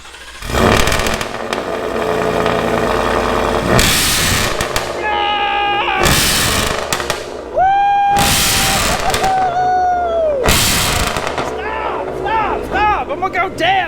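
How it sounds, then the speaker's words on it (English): A Ford F-150 fitted with a Corsa Extreme exhaust roars through a cold start inside a garage. A sustained loud rumble is broken by several sharp revs, and excited voices and whoops cut in between them. "Let's hear this cold start after the install."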